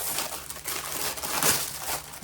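A plastic bag crinkles and rustles close by as candle packaging is handled and pulled open, with a sharper crackle midway.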